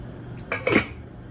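A metal pot lid is set down onto a pot of pickling liquid for red onions heating toward a boil, giving a short clattering clink and a brief rattle, close and fairly clear with no talk.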